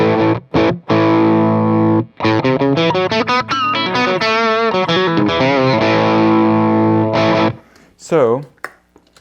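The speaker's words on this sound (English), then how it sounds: "Up next, we have the Blues Driver, and like we said before, the Blues Driver is a really nice standalone pedal." Electric guitar through a Boss Blues Driver overdrive pedal plays choppy chords and sliding bends with a gritty, broken-up tone, ending in a warbling pitch sweep.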